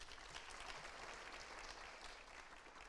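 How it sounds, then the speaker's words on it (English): Audience applause at the launch of a national biosecurity hub, a dense continuous patter of many hands, soft and distant, lasting about three seconds without a break. "Can we get another round of applause?"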